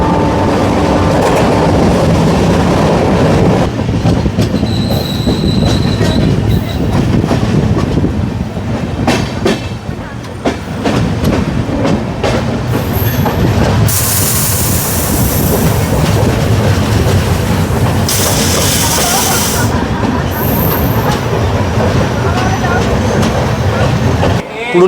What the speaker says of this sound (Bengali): আমাদের ট্রেন এই মুহূর্তে এসে পৌঁছেছিল আদ্রা জংশন স্টেশনে